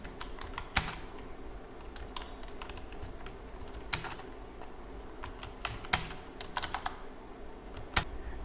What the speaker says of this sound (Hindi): चलिए कुछ टाइप कर लेते हैं।